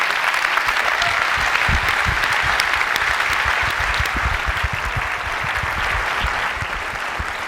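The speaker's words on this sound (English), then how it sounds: "I'd like to give him a round of applause." Loud, sustained audience applause fills a keynote hall during an Intel CEO's stage entrance at a MacBook Air launch, dense steady clapping throughout with no talk.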